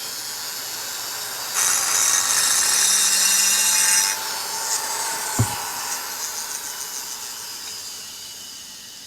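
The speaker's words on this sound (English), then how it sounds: "kind of knock the edge off. And I'm using diamond burr to do this." A diamond burr grinds the edge of a Suzuki TS125 motorcycle cylinder during honing and piston fitting, giving a steady high whine for a couple of seconds before it eases off into lighter, scattered scraping and a single sharp click.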